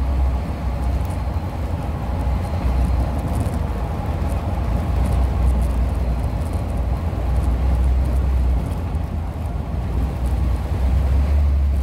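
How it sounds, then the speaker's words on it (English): Steady roaring wind buffets a velomobile speeding along a road in Iceland, a dense continuous rush with low-end pressure that holds without a break. "The wind is coming directly on the side of the bike and it's accelerating."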